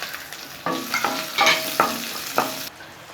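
Garlic cloves and small shallots sautéing in a pan, bright crackling sizzle with several ringing spatula strikes against the metal as they are stirred.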